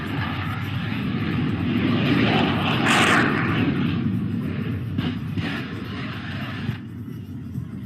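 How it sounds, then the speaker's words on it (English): A fighter plane going down in flames produces a loud, continuous engine roar for several seconds, swelling to a peak and then easing, with a few brief sharp bursts along the way. "The first thing that you observed was this fighter plane going down in flames."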